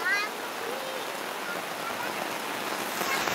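Steady dense hiss of heavy rainfall fills the whole stretch, constant and close, with a brief voice at the very start.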